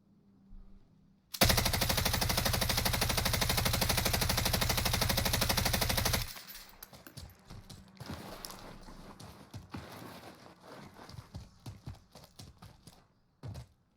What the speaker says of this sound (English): that's a good range for an LMG that you're shooting in Warzone